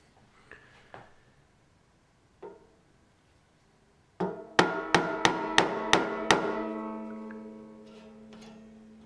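A few light taps, then a quick run of six sharp metallic hammer strikes on a banjo railroad spike that ring out and decay with a lingering tone.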